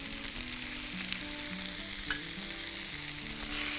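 Chow mein noodles with soy sauce being stirred in a hot pan, a steady close sizzle of frying with soft scraping stir sounds running throughout, no voices.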